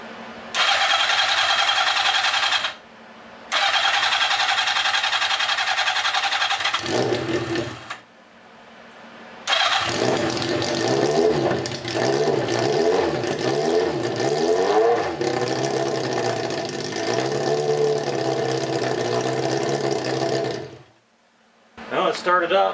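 Cross kart engine, with one bolt fitted to the motor and no muffler yet, cranks and catches, then runs loud and rough with uneven revving in several bursts, separated by short pauses, before cutting off near the end.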